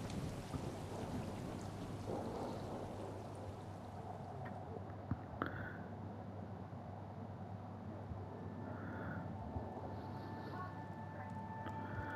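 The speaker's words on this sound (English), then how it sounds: "Got to wait out the storm." A thunderstorm in the video game Stray: steady heavy rain hisses throughout with low rumbling thunder underneath, fairly loud and continuous, and a faint tonal hum enters partway through.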